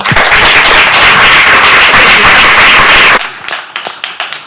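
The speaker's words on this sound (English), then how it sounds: "If we could please just do a round of applause for everyone." An audience at a climate tech convening claps for panelists in a dense burst of applause that ends sharply after about three seconds, followed by a few scattered, fading claps.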